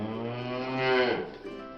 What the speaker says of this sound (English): The cow on the farm goes moo, moo, moo